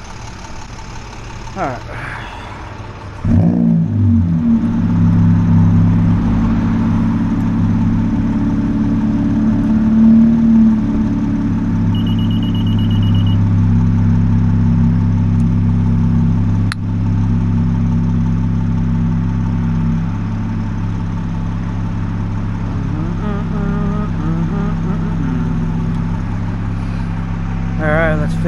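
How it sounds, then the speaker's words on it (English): A Honda Civic with blown air suspension idles steadily in a low, continuous engine hum after starting, with a person speaking briefly over it. "You can start the car if you want so the battery don't die"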